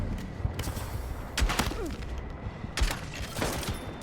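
Gunfire rings out in a Battlefield match, with a few heavy, booming shotgun-like blasts spaced about a second apart over a steady background of game noise and softer distant shots.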